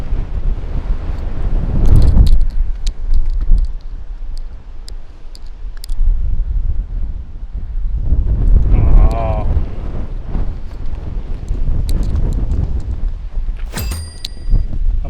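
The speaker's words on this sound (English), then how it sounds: "It's just so windy." Strong desert wind gusting across a golf course and buffeting the microphone in loud, rumbling waves, with brief talk partly buried beneath it.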